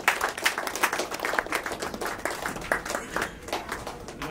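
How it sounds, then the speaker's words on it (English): An award show audience gives a big round of applause, with distinct individual claps standing out within a lively, rhythmic mass of hands at fairly close range throughout. "Please give her a big round of applause."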